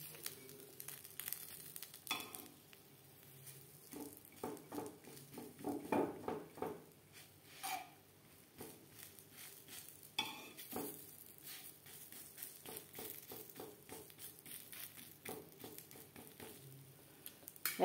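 Spatula folding kheer-filled patishapta crepe in a frying pan, soft scraping and tapping strokes over a faint sizzle, quiet and close, with no voices.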